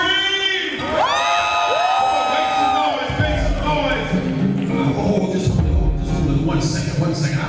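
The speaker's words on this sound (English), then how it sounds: "if you got breath, somebody scream" A church congregation at a gospel service by the Mighty Men of Faith erupts in loud, sustained screams, whoops and cheers, with high rising shrieks at first and then a dense roar of crowd noise throughout.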